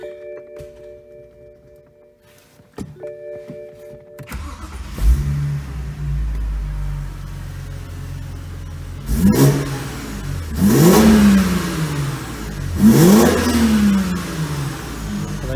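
A car engine starts after a repair job and is revved several times, rising and falling in distinct surges over a steady idle, close and loud, with no talking.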